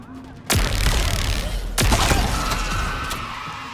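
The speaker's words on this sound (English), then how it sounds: "I'm just going to fight these guys with the Sentinel Beam and Disruptor" Energy weapon fire from a Sentinel Beam and Disruptor in Halo Infinite: two sharp loud blasts over a continuous roaring, crackling wash of combat noise.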